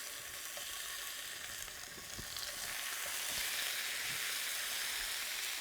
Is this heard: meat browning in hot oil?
yes